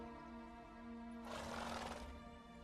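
Roach, a horse in Witcher 3, lets out a breathy neigh midway through, over a steady bed of game music.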